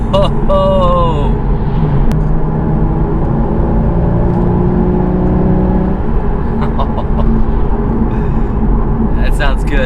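A 2013 Porsche Boxster engine revs while driving, a loud cabin hum with rising tones as it climbs, then a steady drone, with people talking over it.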